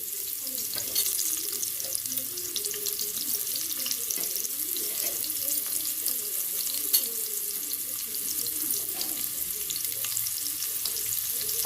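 Steady sizzling and crackling of onions frying in hot oil, continuous and close, with no talking.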